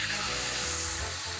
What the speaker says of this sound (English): They're getting a nice sizzle.